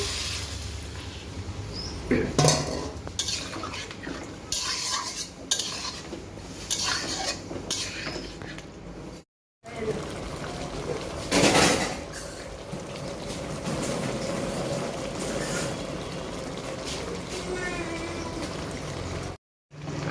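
Metal utensils clink and scrape against a pan as water goes into a pumpkin and potato curry, with clattering strokes up close and a steady wet bubbling underneath in the middle stretch.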